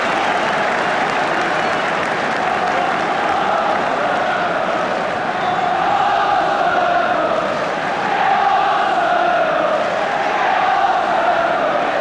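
A football crowd roars continuously at a 1975 Arsenal v Manchester United match, a dense, loud wash of cheering and shouting that swells slightly near the end.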